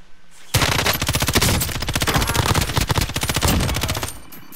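Sustained automatic gunfire in Warzone, a loud dense run of rapid shots lasting several seconds after a brief quiet start, with no talk over it.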